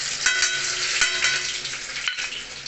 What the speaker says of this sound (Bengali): রসুনটা ভাজুক